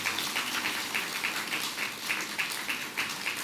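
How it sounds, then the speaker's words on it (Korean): A church congregation applauds in a steady, dense patter of many hands, with a faint rhythmic pulse running through the clapping. "우리 박수로 한번 축복해 주셨으면 좋겠어요"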